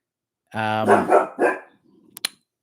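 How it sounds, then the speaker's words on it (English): A pet dog barks a few times in a quick close burst, loud and distinct, then falls quiet apart from a couple of faint clicks, heard indoors during a live stream. "Now my dog's going to bark."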